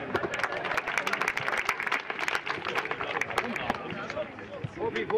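A crowd at a football match applauds steadily, dense clapping filling the space, with voices murmuring faintly underneath.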